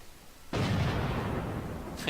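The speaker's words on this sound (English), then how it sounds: "I just heard an explosion in the background." A sudden muffled boom erupts in the distance at a supercross race and rumbles on, fading slowly over a second or so.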